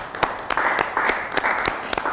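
An audience applauds to welcome a guest, with light, scattered clapping and a few sharper claps standing out over a soft, steady wash of hands.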